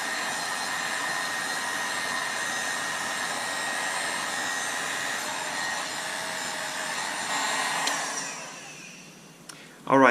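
A steady, loud blowing roar from a heat gun heating shrink wrap over wires during a Jeep headlight relay install, holding constant for about eight seconds before tapering off and cutting out.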